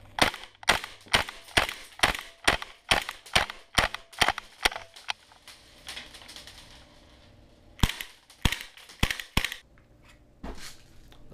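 Two pistols fire in a rapid string of sharp, loud cracks, then stop briefly before a few more scattered shots ring out close by, with no speech.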